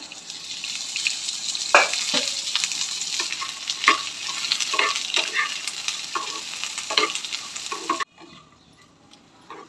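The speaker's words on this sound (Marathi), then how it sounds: "सुक्का खोबरा पण टाकून घेते आणि थोडं तेल टाकून आपण भाजून घेऊया।" Dry coconut roasts in a little oil in a pan, a steady sizzle with a spoon scraping and tapping as it's stirred, close and fairly loud, before the frying noise drops away abruptly near the end.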